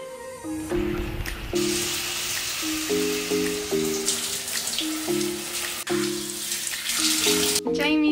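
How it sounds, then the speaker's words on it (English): Steady hiss of heavy rain pouring down, with a droning mechanical tone changing pitch in steps over the top. "It's pouring with rain"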